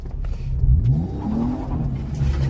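A car engine revs and rises in pitch while the car is drifting, loud and close throughout, with a single pitch sweep near the middle and a steady roar around it.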